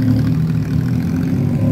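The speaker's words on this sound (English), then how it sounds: "That's tuk-tuk right there." A tuk-tuk engine idles on a Bangkok street in Sukhumvit, a close, steady low rumbling putter that holds constant throughout with no talking.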